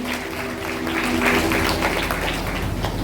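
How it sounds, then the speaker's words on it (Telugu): A congregation at a Christian meeting hall in Yadiki, Anantapuram claps loudly, a dense steady patter of many hands lasting a few seconds with faint tones underneath. "బిగ్గరగా చప్పట్లు కొట్టి ప్రభు మహిమపడతామా?"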